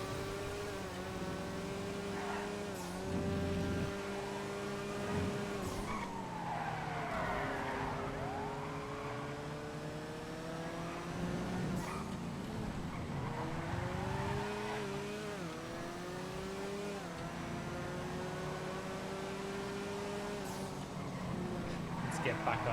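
A Coquette race car in the FiveM game drives and skids, its engine note rising and falling through gear changes with tire squeals, heard under steady talking throughout.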